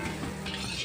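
Chicken noodles with seasoning are tossed and stirred in a hot pan, giving a soft steady sizzle with light scraping, brief and close.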